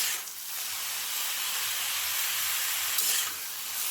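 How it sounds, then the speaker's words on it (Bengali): Cabbage frying in ghee for a sweet payesh gives a steady, moderately loud hiss with swells near the start and the end, with no talking. "এবার আমি বাঁধাকপিটা ঘিয়ের মধ্যে দিয়ে দিচ্ছি আর ভেজে নেব।"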